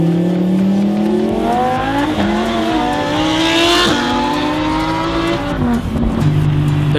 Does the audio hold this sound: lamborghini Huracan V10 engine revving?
yes